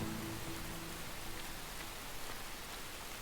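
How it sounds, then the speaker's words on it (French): Rain falls steadily in the video game Enshrouded, a dense, even hiss of drops on surfaces throughout, with a faint tonal hum fading out early on. "la pluie fait partie des nouveautés, d'après ce que j'ai pu voir"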